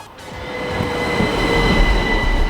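Loud interior rumble of a moving train, a steady low roar with rail noise and faint tonal hum building slightly over a few seconds, no talking.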